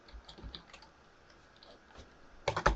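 Soft, scattered keystrokes on a computer keyboard type a project name, followed at the end by a quick burst of louder, sharper key clicks close by.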